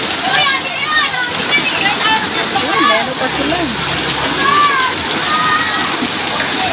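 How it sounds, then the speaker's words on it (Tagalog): People, including children, splashing and playing in dark, smelly rain floodwater in a Quezon City street during heavy rain, a continuous loud wash of water and splatter with excited voices and shouting over it. "saya nila naliligo sa ulan"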